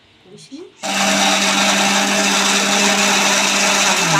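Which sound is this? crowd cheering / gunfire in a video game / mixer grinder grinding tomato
mixer grinder grinding tomato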